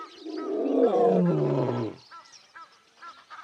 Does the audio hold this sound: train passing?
no